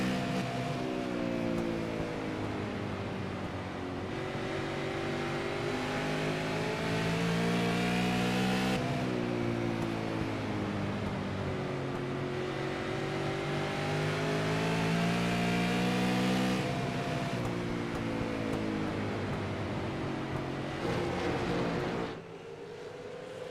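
Race cars accelerate together on a green-flag restart in a simulated oval race at 5 Flags Speedway, a dense chorus of engines climbing through the gears in repeated rising sweeps, loud and steady throughout.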